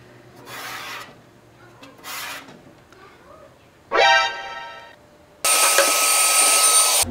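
Scrubbing and cleaning a Dell Optiplex computer: close, short bursts of harsh rubbing and rasping strokes with brief pauses, then a longer steady hissing, airy rush at the end, with no speech.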